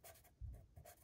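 A marker rubs on paper while filling in a cactus drawing, a few quiet scratchy strokes in quick succession, close and faint.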